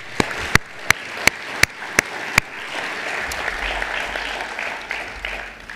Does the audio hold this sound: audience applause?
yes